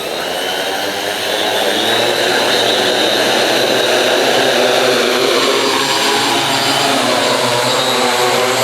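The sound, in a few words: RC wing suit motor running at full throttle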